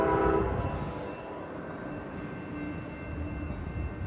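An Amtrak San Joaquin train arriving at its final stop at Oakland Jack London Square, with a loud horn blast at the start giving way to a steady rumble of rolling railcars.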